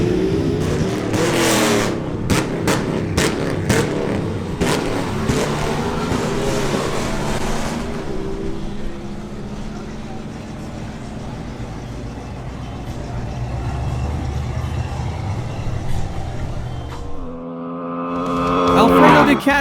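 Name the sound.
two Aprilia RS 660 motorcycles drag racing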